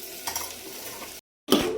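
Chicken frying with garlic in a pan at home, a close sizzle with stirring scrapes, cut by a brief silent gap before a louder burst of frying resumes.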